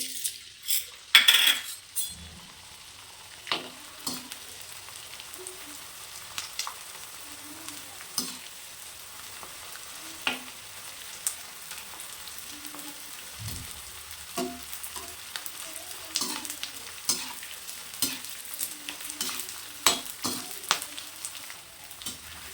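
Edible gum sizzles and crackles steadily in hot ghee, punctuated by occasional clinks of a utensil stirring against the pan.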